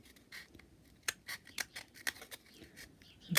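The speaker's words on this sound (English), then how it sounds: "And then get my scissors in there," Scissors snipping around a drawn paper shape for a bear, chair and bed craft, a series of close, crisp cuts at an uneven rhythm, with no talking.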